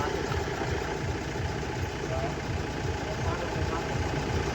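A Kia Bongo III truck engine idles steadily and close, a low rumbling drone with a faint knocking pulse that carries unbroken throughout.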